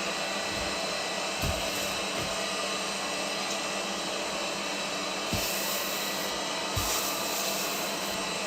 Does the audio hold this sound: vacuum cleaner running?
yes